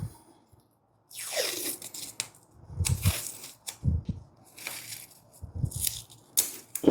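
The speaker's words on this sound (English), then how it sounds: "And then I tape it away" Tape is pulled off a roll and pressed down to hold rolled T-shirt fabric in place: close, crackly tearing strips come in several bursts with short quiet gaps and soft handling rustles.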